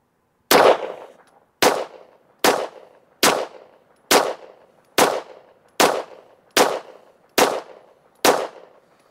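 A Taurus G3 Tactical pistol fires ten rounds of 124 grain reloaded ammunition, ten sharp, loud, close shots at a steady pace of roughly one per second, each with a short ringing decay and quiet gaps between.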